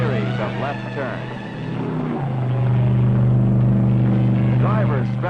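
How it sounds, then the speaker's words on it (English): Mercury Comet race cars thunder around Daytona during a 1964 race, a heavy engine roar that swells and holds loud under continuous narration, with a surge as a car passes. "The drivers stretch out and the cars thunder by lap after lap."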